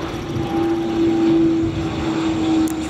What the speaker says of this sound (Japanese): 飛行機がいっぱい飛んでいくな。